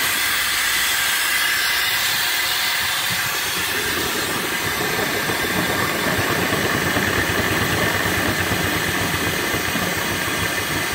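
A small steam engine about 36 inches tall, fitted with a flyball governor and oiler and mounted on a trailer with its boiler, runs at low speed with a steady, loud hiss and chuffing rumble throughout.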